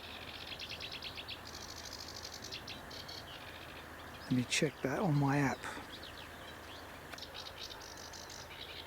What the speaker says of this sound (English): the app seems to think it's a marsh warbler